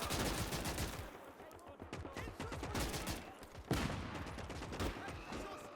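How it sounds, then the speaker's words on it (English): Sustained gunfire fills a World War II street battle in the video game Gates of Hell, dense rapid bursts of machine-gun fire with overlapping shots and a sharp loud report near the middle, continuous and close throughout. "MG firing, covering that open street."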